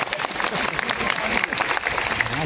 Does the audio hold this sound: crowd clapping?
yes